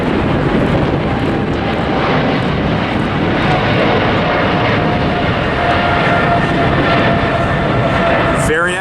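A China Cargo airplane roars past at LAX, a steady loud jet rumble filling the air throughout, with wind buffeting and a voice speaking over it.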